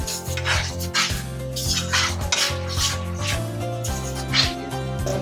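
Metal spoon clinking and scraping steadily against a pot while stirring milk mixed with liquid milk for khir mohon sweets, a continuous close clatter with occasional louder knocks, no talking.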